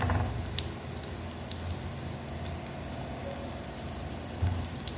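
Wheat-coated chicken snacks frying in shallow oil in a pan, giving a steady close hiss and crackle with soft popping throughout and a few heavier bubbling bursts near the start and end, no talking.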